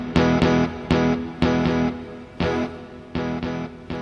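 An electric guitar played through echo effects, a requiem piece for voices and electric guitar, gives loud, sharply plucked notes in a halting rhythm, each one trailing off in bright, ringing repeats.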